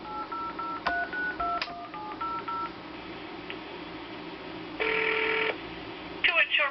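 A telephone on speakerphone dials a toll-free 1-800 number: a quick run of distinct touch-tone beeps, a pause of line hiss, then a longer steady tone and faint clicks as the call connects.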